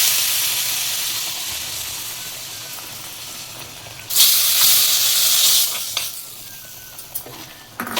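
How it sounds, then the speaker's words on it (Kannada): Tempering spices dropped into hot oil for citron gojju, a steady frying hiss that flares into a loud, bright sizzle for about a second and a half, then settles to a quieter crackle. "ಒಗ್ಗರಣೆ ಹಾಕೊಂಡ್ಬಿಡೋಣ ಇದಕ್ಕೆ."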